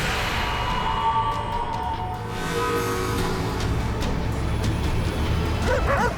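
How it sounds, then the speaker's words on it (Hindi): A dog barks and yips out in the fields at night, the barking mixed with a continuous engine-like rumble and background noise throughout. "ये कुत्ता काहे भूख रहा है रे?"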